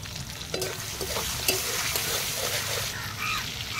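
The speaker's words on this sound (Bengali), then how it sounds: "টমেটোটা রসুন কুচিটা দিয়ে ভেজে নেব" Tomato and chopped garlic fry in mustard oil, giving a steady, close sizzle with occasional stirring scrapes across the whole stretch and no voice over it.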